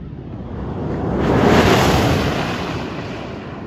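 A Tesla Model S Plaid rushes past at top speed, near 200 mph, a loud roaring whoosh that builds to a peak and then fades, almost like a jet.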